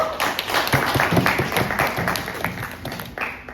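At a club's closing ceremony, a group claps for club members, producing close, uneven clapping with individual hand claps distinct, tapering off toward the end.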